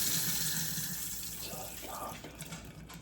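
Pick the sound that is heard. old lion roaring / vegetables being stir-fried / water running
water running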